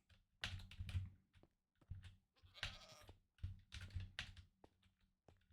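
A Minecraft goat gives several short, quiet bleats at intervals, mixed with bursts of computer keyboard clicking in a mostly hushed setting.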